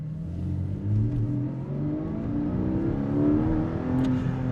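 A Porsche 718 Cayman GTS engine revs up under acceleration, heard from inside the car as a rising, rasping drone that climbs in pitch steadily, with no talking.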